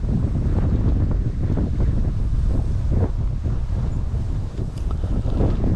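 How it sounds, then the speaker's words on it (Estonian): Strong wind gusts roar steadily across the mic beside a lake during salmon fishing, a constant loud rushing with faint water lapping beneath and no talking. "Tuul on päris suureks läinud."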